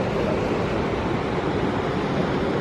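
Tidal water rushing through the rocky gorge at the Reversing Falls on the Bay of Fundy, a steady, loud, broadband roar of turbulent flow that holds constant throughout with no voices.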